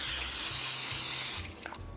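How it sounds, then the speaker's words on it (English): Cooking spray hisses in one steady burst onto a pan for almost a second and a half, then stops, leaving a faint click and quiet rustle. "get your cooking spray and spray like a light layer on the pan"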